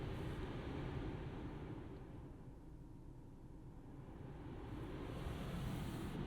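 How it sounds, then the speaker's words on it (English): Soft, steady wind-like ambience inside a 2022 BMW 3 Series cabin during the iDrive 7 relax program, a continuous airy rush that dips gently midway and swells again, with no talking. "What I think it's trying to do is simulate like a rainforest vibe and having some wind and some green light coming on and off."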